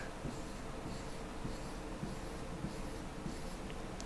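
Pen or pencil writing an IP address and subnet mask in binary by hand on paper, a steady soft scratching with small taps of strokes, close and continuous, no talking.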